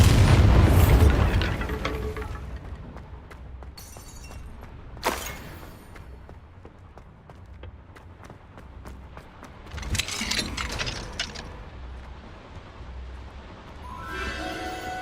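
A Bombardo spell blast in the Hogwarts Legacy video game goes off as a loud boom at the start, followed by scattered bursts, crackling debris and rumbling aftershocks over a low ambient bed.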